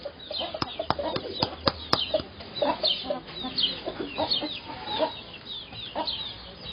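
Free-range laying hens on a farm cluck and chatter close by, a busy flock of soft, overlapping calls, with a few sharp taps or pecks early on.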